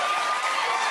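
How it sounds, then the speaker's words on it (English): A studio audience at a late-night talk show cheers and applauds in a dense, steady crowd roar that holds loud throughout without a break. "listen to those fucking sheep just cheering on"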